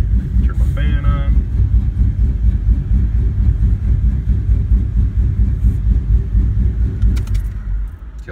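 A car with an LS1-family V8 engine swap idles slightly high, a steady deep rumbling throb with a faint brief chirp early on, close and continuous, tapering a little at the end.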